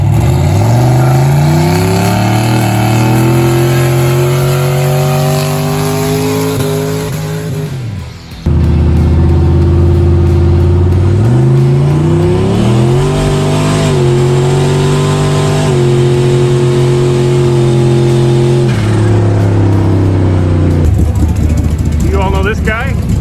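A drag truck with a turbo 400 transmission accelerates hard down the track, its loud engine climbing in pitch through successive gear changes with a brief break, then winding up again, under continuous talk.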